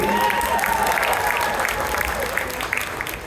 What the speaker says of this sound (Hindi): इसमें बजाओ ताली